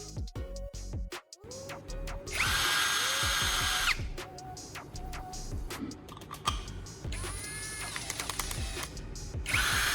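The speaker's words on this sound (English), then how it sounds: "Now I'll attach it to the drill." An electric drill with a knife sharpener attached whirs in several bursts, spinning up and winding down between stretches of clicking and handling noises, loud and close.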